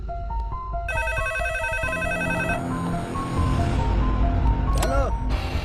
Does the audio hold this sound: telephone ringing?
yes